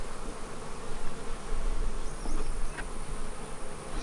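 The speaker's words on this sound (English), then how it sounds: "Okay, here's some bees. We have found the bees." Honey bees buzz around an open beehive in a farm bee yard, a steady, dense hum with individual bees passing close by, no voices over it.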